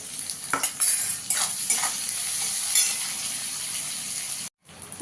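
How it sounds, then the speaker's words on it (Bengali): Onion and crushed garlic fry in a pan with a steady bright sizzle broken by a few stirring scrapes and spatters, then a brief drop to near silence before the frying resumes; no talking. "পেঁয়াজ রসুনটা একটু লাল করে ভেজে নেবো ভালো করে"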